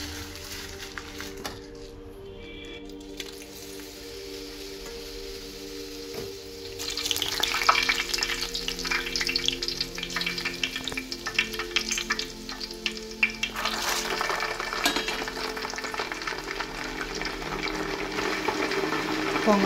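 Dried red chillies, mustard seeds, cumin, peeled garlic and fresh curry leaves crackle and sizzle in hot oil for a ginger pickle tempering, a steady frying hiss that grows louder and busier partway through, with no talk.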